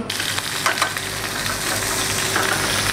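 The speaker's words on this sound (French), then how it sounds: "On va faire revenir les riz d'agneau et les asperges." Lamb sweetbreads and asparagus frying in olive oil in a pan, a steady close sizzle with light crackles running throughout, no talking.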